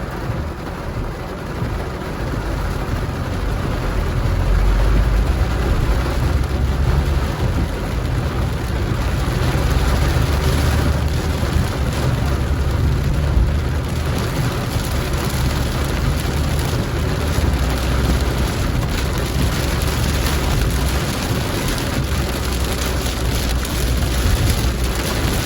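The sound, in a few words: heavy rain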